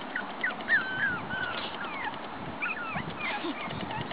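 A puppy's high, thin whimpers and squeaky yips come in short bursts, close by, over a steady low background noise.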